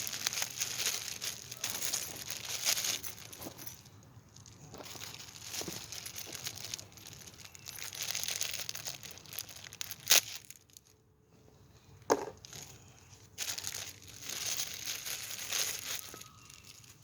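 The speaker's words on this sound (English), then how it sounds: "Get this box open" Cardboard packaging for a Schrade SCHF37 knife being opened by hand, with close crinkling, scraping and tearing in uneven bursts and a few sharp snaps between quieter moments.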